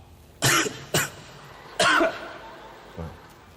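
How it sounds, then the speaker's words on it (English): A few short throat-clearing bursts in close succession, then a softer one after a pause, close and fairly loud against a quiet room. "I was just clearing my throat"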